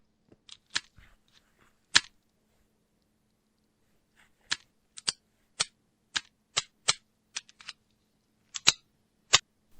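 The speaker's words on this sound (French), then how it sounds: "On recharge." Weapons being reloaded in a Warhammer 40k science fiction fan film: a sparse series of crisp metallic clicks and snaps, a few early ones then a quicker run of sharp clacks, each brief and close against near silence.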